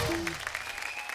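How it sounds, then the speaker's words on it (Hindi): Studio audience applause welcoming cricketers Shikhar Dhawan and Prithvi Shaw on a TV show: steady, dense clapping with a few faint musical tones underneath. "जोरदार तालियां शिखर और पृथ्वी के लिए।"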